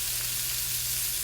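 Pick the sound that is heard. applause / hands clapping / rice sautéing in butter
rice sautéing in butter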